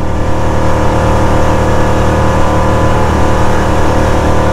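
Chaparral 256 boat engine running at high RPM near top speed, around 4,800 RPM and 40 mph, a loud, steady, continuous roar close by with no talk over it.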